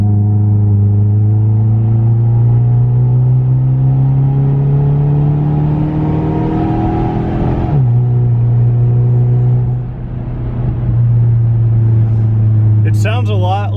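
A Saab 9-5 wagon with a B235 engine and a straight-piped exhaust drones loudly up close, its raspy note climbing steadily, then dropping sharply and holding at a steady idle-like hum, with a brief rattle at the end.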